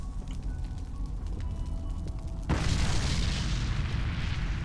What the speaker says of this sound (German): da ist schon wieder was explodiert